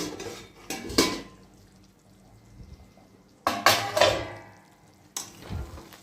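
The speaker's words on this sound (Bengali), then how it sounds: "ঢাকাটা খুলে একবার দেখে নিই।" A metal lid is lifted off a pot of meat cooking on a low gas flame, giving sharp clanks and scrapes in separate bursts amid quiet stretches, with a faint simmer underneath.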